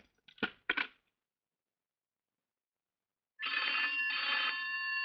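A telephone rings twice in a quiet room, two short bursts at the start, then after a silent pause a longer, steady electronic ring tone begins and continues to the end.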